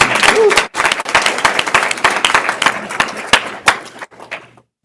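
Audience applause at a school board meeting: dense, crackling clapping from a roomful of people, loud and sustained for about four seconds before tapering off into silence.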